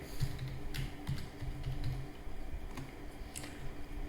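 A password is typed on a computer keyboard, with light, quick key clicks coming in irregular bursts against a faint background hum.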